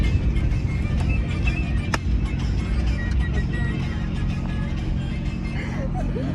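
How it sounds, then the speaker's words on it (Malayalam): Inside a moving Maruti Omni van, with a constant low engine and road rumble droning close around the cabin and occasional passing-traffic swells. People are talking over it. "ഒമിനിക്കാണ് പോകുന്നത്."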